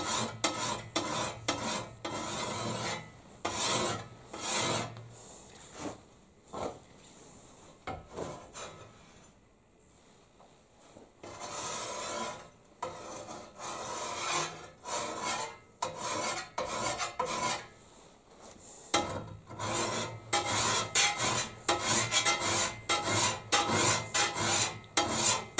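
A hand file rasps across the steel edges of wildland fire tools such as a Pulaski, axe, McLeod and shovel, giving close, rhythmic back-and-forth strokes in bursts with brief pauses between them.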